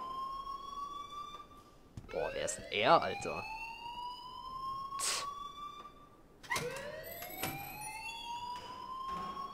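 Wailing, rising alarm tones sound in the video game Life is Strange, sweeping up repeatedly in several bursts, with someone talking over them.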